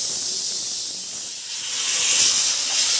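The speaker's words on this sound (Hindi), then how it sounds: "कुकर में बॉईल हो रहे हैं आलू" A pressure cooker boiling potatoes in a home kitchen gives off a steady, loud hiss of escaping steam that runs unbroken for the whole stretch.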